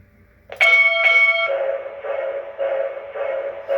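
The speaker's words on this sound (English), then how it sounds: "the bell rang twice right as it started up" An MTH RailKing Pennsylvania K4 model steam locomotive rings its bell twice in quick succession at start-up. A steady, fairly loud mechanical running hum follows with no talk.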